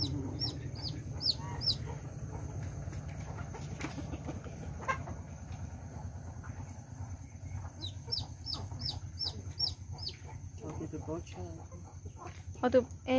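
Chickens cluck and crow repeatedly at feeding time, with a series of short, bright calls in bursts near the start and again midway. A steady low rumble and scattered people's voices sit underneath throughout.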